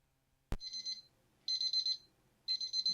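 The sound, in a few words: kitchen timer alarm going off after pasta cooking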